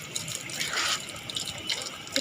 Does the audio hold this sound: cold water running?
yes